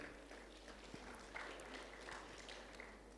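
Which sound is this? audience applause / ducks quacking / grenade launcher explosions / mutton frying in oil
audience applause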